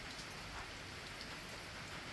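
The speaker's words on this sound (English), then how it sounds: "at the moment it's just a bit of drizzle." Light drizzle falls steadily on a wet morning at Waterfall Valley on Tasmania's Overland Track, a faint, even hiss of rain without pause or other sounds.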